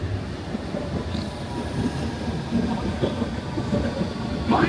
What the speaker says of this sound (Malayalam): നമ്മുടെ ട്യൂബ് വരുന്നുണ്ട്, ഇതിലാണ് നമുക്ക് കയറി പോകേണ്ടത്.